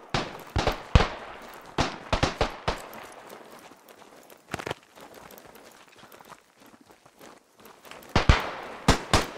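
Shotgun blasts in the Beyond The Wire video game, set in the Argonne Forest: loud, sharp, separate reports in irregular clusters, with quieter stretches between them.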